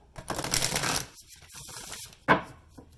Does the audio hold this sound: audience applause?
no